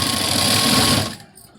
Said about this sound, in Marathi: इथं सुद्धा एक सारखी शिलाई द्यायची.